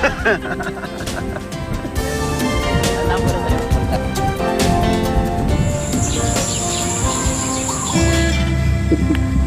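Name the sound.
birds calling at Candaba wetlands, Pampanga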